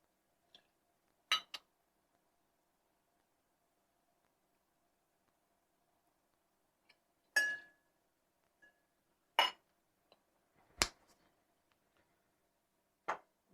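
Aged rum is measured into a cocktail jigger, with a few sparse, sharp glass clinks and taps coming close and clear against near silence.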